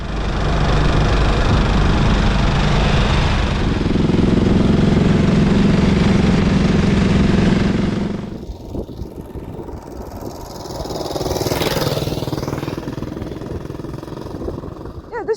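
A 1920s overhead-cam Velocette motorcycle engine runs loudly close by, holding a steady rough rumble before dropping to a lower idle and then rising again, while someone talks over part of it.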